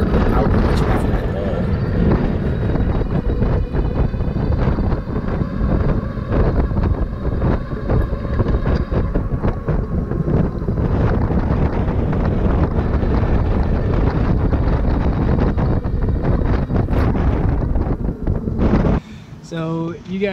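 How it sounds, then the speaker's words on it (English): An M2S All Terrain R750 electric bike accelerating toward 26–28 mph produces loud, continuous wind roar buffeting the microphone for most of the ride, then a sudden drop to quieter rustling near the end. "I wanted to really show you guys just how quickly this bike can pick up speed and get up to that 26, 28 mile per hour mark"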